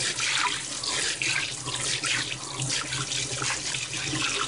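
Cold water running from a faucet into a sink to soak turkey legs, a steady loud rushing and splashing stream that continues without pause and has no talk over it.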